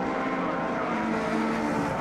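A race car spins after contact during a Civic Cup round at Brands Hatch, with a steady close engine roar and tyre squeal running through, no voices over it.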